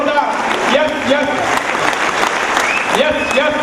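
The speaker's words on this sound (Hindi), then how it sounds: "जोरदार तालियां होनी चाहिए माय डियर फ्रेंड्स" A crowd at an event in Baroda claps loudly and continuously, while a voice urges them on over the applause.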